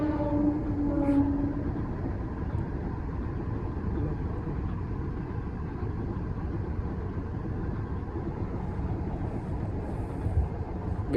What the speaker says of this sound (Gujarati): અમે પહોંચ્યા છે ઉચ્છલ અને આવી છે ટ્રેન